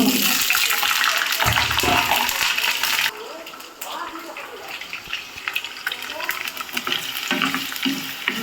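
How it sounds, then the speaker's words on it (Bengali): Potatoes fry in mustard oil for a home-style country chicken curry, giving a loud, bright sizzle for the first few seconds that then drops to a quieter crackle with occasional stirring scrapes. "আমি আলুটাকে একটু ভেজে নেব।"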